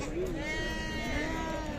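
Sheep and lambs bleat at a busy livestock market, a wavering bleat rising over a steady crowd murmur while people talk nearby.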